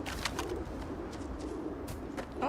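Pigeon-like cooing from a bird in the video game Starfield, soft low coos repeating over a steady ambient game background, moderately close.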